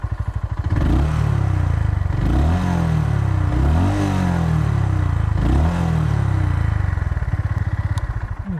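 A 350cc roadster motorcycle, either a Royal Enfield Hunter 350 or a Honda CB350 RS, is revved up close and loud four times. Its steady idle thump rises and falls with each throttle blip, and no one talks.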